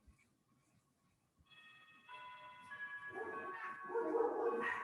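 Several dogs bark together in a house after a doorbell rings, first a ringing chime and then a rising, continuing burst of barking that grows louder near the end.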